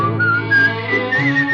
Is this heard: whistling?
yes